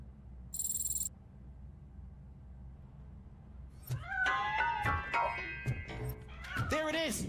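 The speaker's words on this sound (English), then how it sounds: "That cat must be hiding inside." A cat meows from a hiding spot in the video game Robocop: Rogue City, a short burst of hiss first, then several high wavering meows and cries close by over quiet background.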